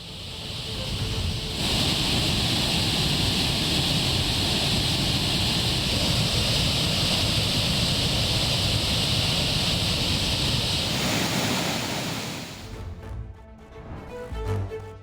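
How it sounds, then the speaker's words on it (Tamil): Suruli waterfall in the Western Ghats near Theni, swollen by heavy rain, gives a dense, steady roar that holds for about eleven seconds before cutting off abruptly. "தேனி மேற்கு தொடர்ச்சி மலையில் பெய்த மழை காரணமாக ஆர்ப்பரித்து கொட்டும் சுருளி அருவி."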